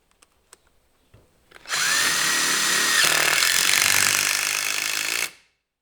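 A DeWalt impact driver drives big 5/16 and 3/8 screws into wood in a loud, steady, close hammering whir lasting several seconds, after a few faint clicks.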